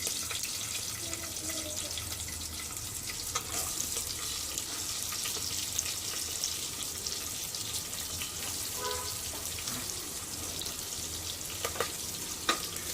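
Thinly sliced onions fry in a pan for paneer biryani, giving a continuous hissing sizzle with occasional clinks of stirring. The sound stays steady and fairly close throughout, with no voices.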